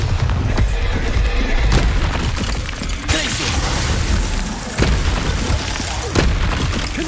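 Repeated Bombarda spell explosions in the video game Hogwarts Legacy, loud booming blasts landing in quick succession over dense rumbling battle noise, with a voice partly mixed in.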